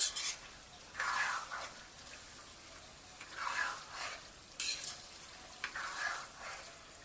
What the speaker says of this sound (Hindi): चिकन के साथ ऑयल में इसकी मुसलसल हम भुनाई कर रहे हैं